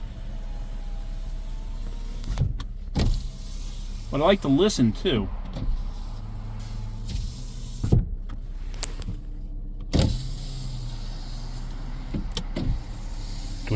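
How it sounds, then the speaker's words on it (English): Driver's side auto power window on a used car during a pre-purchase inspection, motor whirring as the glass runs up and down in a few short strokes, with clicks and someone speaking over it. "Do we hear anything unusual when the window's going up and down?"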